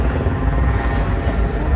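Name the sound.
helicopter flying overhead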